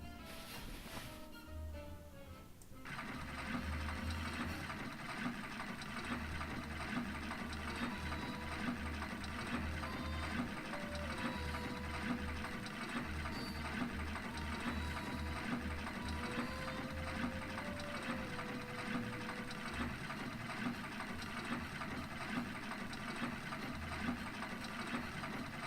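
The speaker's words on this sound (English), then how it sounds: "I can start sewing" Sewing machine stitching a dress in the Nancy Drew game Secret of the Old Clock, a loud steady mechanical whir with rhythmic clattering pulses that starts after a short musical intro and continues for over twenty seconds.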